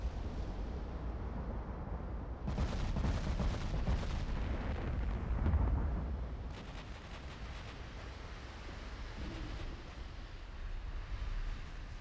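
Naval gunfire from warships in Ultimate Admiral: Dreadnoughts, a low continuous rumble of distant heavy guns with a denser burst of booming salvos in the middle, fading back to a steady background roar.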